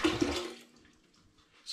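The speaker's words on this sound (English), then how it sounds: "I'm going to begin by adding 5 litres of spring water on top of the rhubarb pulp." Spring water, five litres, pours onto rhubarb pulp in a home-brew blackcurrant and rhubarb cider batch, a loud gushing splash that tails off quickly into quiet.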